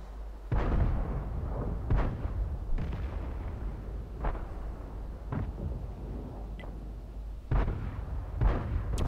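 Repeated tank cannon shots in World of Tanks, an American M4190 tank in a match, boom out as loud, deep blasts at irregular intervals, with about eight firing reports across the span and rumbling decay between them.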